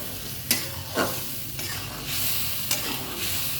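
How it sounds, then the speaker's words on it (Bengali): Spice paste stir-frying in oil in a pan for a fish-head vegetable dish, a steady close sizzle broken by a few sharp scrapes of a spatula stirring, with no voices. "মশলাটা ভালো করে কষাতে হবে।"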